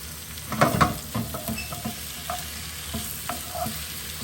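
Cabbage sizzles in a hot pan for haddock colcannon, with a louder burst of frying as it goes in, then steady close crackle and stirring, no voices.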